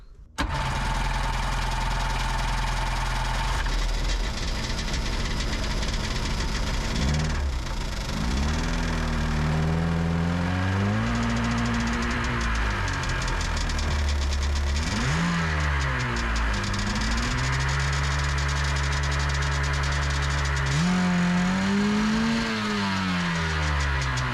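A Sea-Doo Sportster 1800 jet boat engine runs loud and steady, its revs repeatedly rising and dipping, with no voices.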